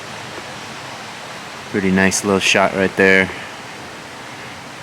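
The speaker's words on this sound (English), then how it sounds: "You can hear that water behind me. It is still flowing pretty heavy." Heavy water flow at the Lake Padden drainage, a steady rushing hiss throughout, with someone briefly talking over it in the middle.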